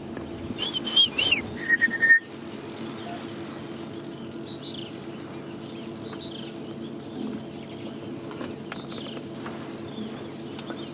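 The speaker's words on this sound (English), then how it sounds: "There's a rattling cisticola calling." A rattling cisticola calls in the open bush on an African safari drive at sunrise. It gives a few sharp whistled notes early on, then fainter chirps fall over a steady low hum of engine and wind.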